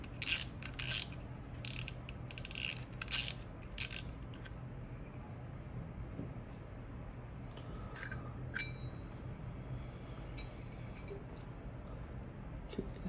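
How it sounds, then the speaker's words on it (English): The spool comes off a Daiwa Certate LT 2024 spinning fishing reel with a series of close, small ratcheting clicks and light metallic ticks, busier at first and then sparse. "just take off the spool first."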